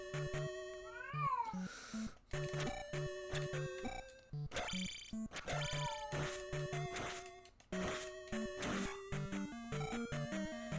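A cat in a Link adventure video game meows repeatedly, with rapid high-pitched yowls layered over busy game music and sound effects, loud throughout.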